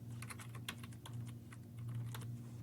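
Typing on a computer keyboard sounds as a quick, irregular run of crisp clicks over a steady low electrical hum. The keystrokes are close and moderately quiet, and no one speaks over them.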